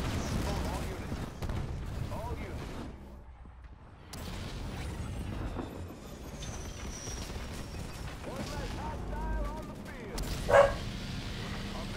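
A dog barks in the strategy video game Halo Wars 2, mixed into busy battle effects and music, with someone talking over the game audio.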